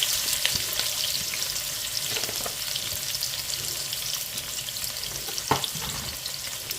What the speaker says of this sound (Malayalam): എണ്ണ നന്നായിട്ട് ചൂടായിട്ട് നമ്മൾ എടുത്തു വെച്ചിരുന്ന ഇഞ്ചി വെളുത്തുള്ളി സവോളയും അങ്ങോട്ടിടാം